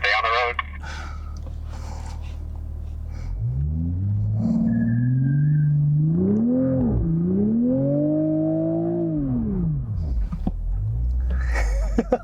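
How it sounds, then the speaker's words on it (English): Sports car doing a burnout with an 8-speed automatic, engine rising into a loud sustained rev that wavers and falls away, with tire noise and a voice talking. "I'm gonna actually do a burnout really quick."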